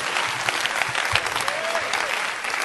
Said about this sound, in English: Let's clap our hands to the Lord again and give Him praise.